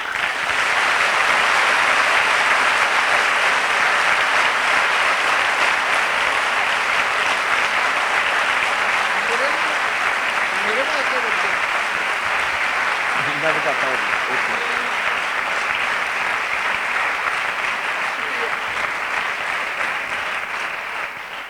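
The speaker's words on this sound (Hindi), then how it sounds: "ये तालियां उस बरकत के लिए थीं जो हमने हासिल की" Sustained audience applause at a Christian gathering in Urdu/Hindi, a loud, dense and even wash of clapping that runs unbroken for about twenty seconds, with faint voices and a few tonal sounds rising through it midway.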